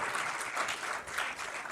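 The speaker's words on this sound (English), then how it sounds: "Let us once again hear an applause, ladies and gentlemen" Sustained applause from a conference audience at a maritime stakeholder event on seafarer welfare, dense and steady throughout with slight swells.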